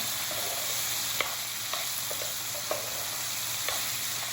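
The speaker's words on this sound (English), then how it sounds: "Move it around, moving the food around. This is a saute" Beef liver and onions sauté in a pot for a Jamaican homemade dish, giving a steady close sizzle with a few sharp scraping clicks as the food is stirred around, and no voices.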